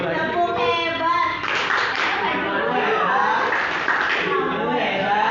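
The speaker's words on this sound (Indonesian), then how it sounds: "Tepuk hebat." A school class performs the 'tepuk hebat' clapping routine, a run of rhythmic handclaps close by, mixed with children's voices and chanting throughout.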